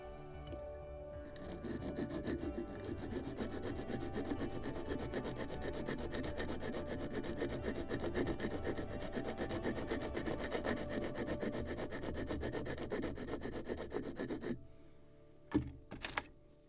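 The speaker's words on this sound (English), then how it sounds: "Just slight sanding of the lower edge." Steady scraping of sandpaper rubbing back and forth on the lower edge of a wooden model ship part for about fifteen seconds, then it stops, followed by a couple of light knocks.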